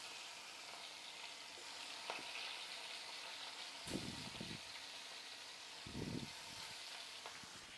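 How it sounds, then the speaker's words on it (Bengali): Fish rubbed with turmeric and salt fries in oil in a pan, giving a soft, steady sizzle at moderate distance with a few brief louder bursts of spattering. "তাই মাছটাকে ভাজতে বসে দিলাম হলুদ আর লবণ"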